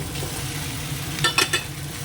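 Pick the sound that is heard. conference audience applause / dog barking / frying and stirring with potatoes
frying and stirring with potatoes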